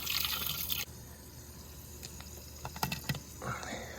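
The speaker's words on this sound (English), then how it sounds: "Just put a little water in here, kind of wetting it up." Water poured onto fresh sand inside a pool filter tank, a brief splashing pour at the start followed by scattered drips and small trickles, close by, with no talking.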